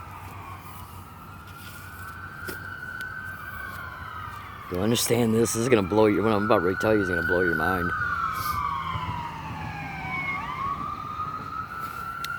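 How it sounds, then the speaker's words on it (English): An emergency vehicle siren wails and sweeps up and down as it passes, rising and falling across the whole stretch, while someone talks over it for a few seconds in the middle. "Let the siren go by."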